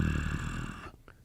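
A human voice imitates a jaguar's breathing at close range, a harsh, rasping exhale lasting under a second, followed by a short, softer breathy snort.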